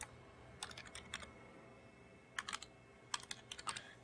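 Quiet keystrokes on a computer keyboard come in short bursts of rapid typing, a password entered in two or three quick runs with pauses between, close and faint.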